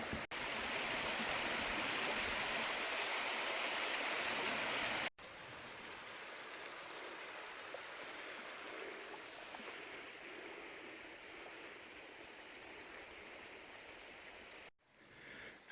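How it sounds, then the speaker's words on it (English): Rushing water from a waterfall and small cascades on Black Mountain near Fredericktown, Missouri, gives a steady broadband roar. It is louder at first, then softer and more distant. No voices are heard. "now we're above the upper falls, and there's still some more smaller cascades and things up this way"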